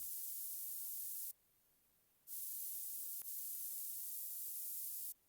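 Bursts of bright white noise from the Serum synthesizer, hissing in on and off with gaps between, fairly quiet and without any voices.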